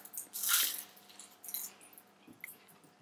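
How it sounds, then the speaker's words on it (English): Someone bites into a baked, browned Greek phyllo pastry triangle filled with feta, giving a few crisp, close, quiet crunches spaced apart, with no speech. "this is the Greek triangle cooked. Lovely and brown, and when you bite into it"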